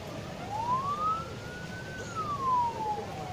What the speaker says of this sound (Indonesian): Ini ambulan dari 119 Kegawat Daruratan Medik Indonesia.